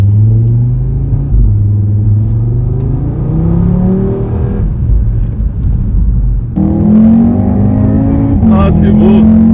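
An Audi S1 accelerates hard beside a Golf 7R and an RS3, engine note climbing in rising pitch sweeps, dropping at a gear change and climbing again, loud and close throughout.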